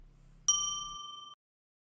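A single bright bell ding rings out clearly and decays over about a second, followed by silence.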